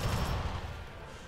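A brief burst of gunfire from the video game Alien Swarm Reactive Drop in deathmatch mode, a quick dense volley that fades within about a second.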